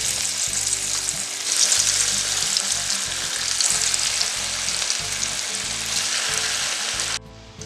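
Marinated paneer pakoras fry in hot oil with a steady, loud, close sizzle and crackle that runs unbroken, then drops away sharply near the end.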